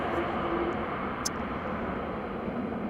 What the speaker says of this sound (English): A KLM A330 using reverse thrust.